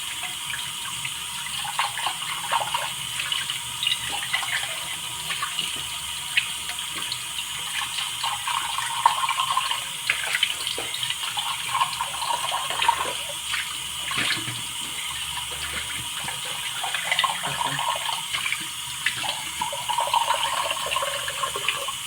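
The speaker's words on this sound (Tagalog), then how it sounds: "Banlawan muna natin." Something being rinsed under running water in a kitchen sink during cleaning, a steady hissing flow with small splashes and clinks, close by and continuous for about twenty seconds, with no talking.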